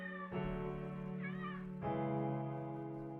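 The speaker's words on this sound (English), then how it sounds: "His meows were being muffled by his shirt." A cat's meows sound muffled as if under a shirt: two drawn-out, tonal cries with a brief wavering rise between them, close and fairly loud with no talking.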